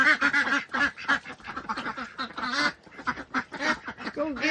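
A group of farm ducks quack continuously and close up, overlapping raspy calls in quick succession with hardly a gap.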